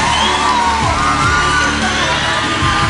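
Studio audience at a Star Academy 6 live prime cheering, whooping and shouting for M. Pokora, a loud, dense crowd roar that stays steady throughout with no clear gaps.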